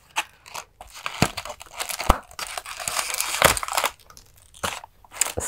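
Waxy paper packets holding action figure accessories being handled and opened, giving close, irregular crinkles and crackly rustles in uneven bursts with short pauses.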